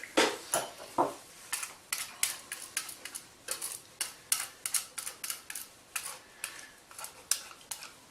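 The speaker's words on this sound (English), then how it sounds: "I usually switch to a whisk just to get a really creamy as possible finish" Bechamel sauce whisked in a pan, with quick metallic taps and clicks in an uneven steady rhythm, close and fairly quiet, with no talking.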